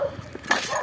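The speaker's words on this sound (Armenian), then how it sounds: "Բաց թողեք, շունը խեղդվում է։" A dog whimpers and yelps briefly while being choked, a short faint strained cry with no talk over it.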